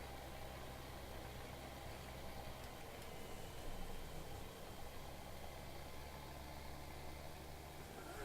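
A tractor engine idles in Farming Simulator, a steady low rumble holding at a constant level throughout with no speech.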